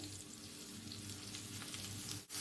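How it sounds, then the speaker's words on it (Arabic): Sliced onion, crushed garlic and colored bell peppers sauté together in a pan, giving a soft, steady, fairly faint sizzle throughout. "وانا بشوح كده المكونات مع بعض"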